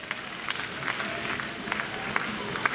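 A round of audience applause at a live stage show, steady and moderately loud crowd clapping with a few sharper individual claps standing out, no talk over it.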